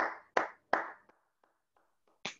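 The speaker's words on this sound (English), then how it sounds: "let's give them a round of applause" A brief round of applause for teaching assistants in a university music class session, a few scattered loud claps then sparse faint ones, ending with one more sharp clap, no talk.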